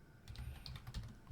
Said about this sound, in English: I can just type the name dataset here and can then do my plotting.